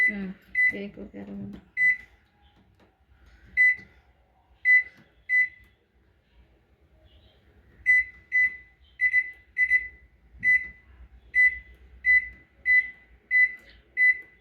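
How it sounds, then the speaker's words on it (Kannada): An IFB 23L convection microwave oven sounds a run of sharp, evenly spaced electronic beeps as its buttons are pressed and it starts, with a low hum between them and a brief voice near the start. "ಪ್ರೆಸ್ ಮಾಡಿಬಿಟ್ರೆ 30 ಸೆಕೆಂಡು ಆಟೋಮೆಟಿಕ್ಕು ಮಿಷಿನ್ ಸ್ಟಾರ್ಟ್ ಆಗುತ್ತೆ, ಎಂಡ್ ಆಗುತ್ತೆ."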